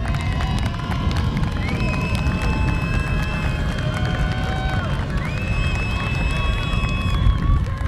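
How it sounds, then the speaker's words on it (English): A large crowd at a high school commencement for a graduating class makes steady, continuous noise, with broad clapping and cheering and a few sustained whistles or tones running through it. "Let's give them a round of applause."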